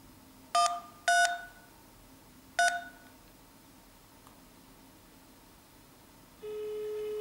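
Number keys on an HTC 8S phone beep three times as a call is dialed, short bright tones in an uneven rhythm, followed after a pause by a steady ringing tone.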